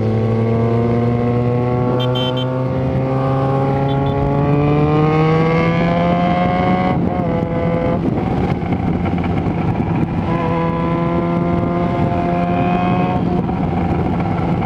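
A Yamaha XJ6 motorcycle carrying a rider and a passenger on the back, its engine droning loud and close, climbing steadily in pitch, then dropping with a gear change and rising again.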